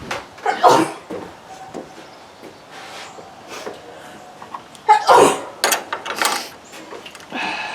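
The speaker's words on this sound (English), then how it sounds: "Sorry for my sneezes." Two sharp sneezes, one early and one later, punctuate quiet background clatter and faint mechanical clicks.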